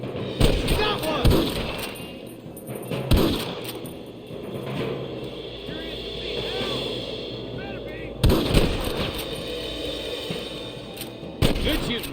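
Gunfire rings out in the Western video game Red Dead Redemption during a shootout with rustlers at Pike's Basin, with several sharp, loud shots separated by pauses over ambient game sound and faint voices.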